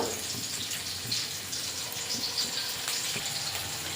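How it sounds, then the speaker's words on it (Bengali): Chopped onion fries in oil in a hot kadai, a soft, continuous crackling sizzle at low volume with a few small bursts, heard alone without speech. "পেঁয়াজটা ভাজা ভাজা করে নেব।"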